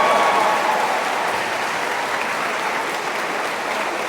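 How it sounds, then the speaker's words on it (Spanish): Loud, steady applause from a church congregation for a man named Pepe, dense clapping that fades slightly over a few seconds with no one speaking. "Un aplauso, Pepe"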